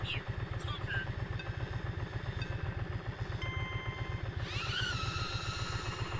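A motorcycle engine runs with a steady, rhythmic low throb, rising into a brighter passing whine near the end as it rides by close.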